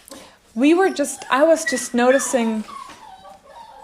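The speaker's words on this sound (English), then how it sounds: "you might hear the dogs in the background being quite happy." Excited dogs at home whimper and yip in short bursts while a person talks over them close by.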